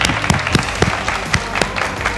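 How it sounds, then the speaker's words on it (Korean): Crowd applause at a pull-up challenge event, a dense, loud patter of many hands with a few sharper claps standing out over a busy room. "와, 박수"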